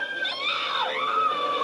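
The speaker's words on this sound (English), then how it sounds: "what are those girls screaming for?" Girls scream in the horror film Invasion of the Blood Farmers, a continuous, shrill, wavering cry that rises and falls and stays loud for the whole stretch, with no talking over it.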